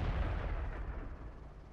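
A tank cannon fires in the World of Tanks video game: one heavy, booming shot with a deep low rumble that slowly fades, with no voices over it.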